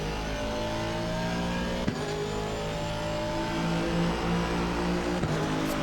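An Aston Martin V8 GT3 race car in Assetto Corsa Competizione at Suzuka, its engine droning steadily at mid revs with sustained harmonic tones and two brief gear-shift blips, close and continuous.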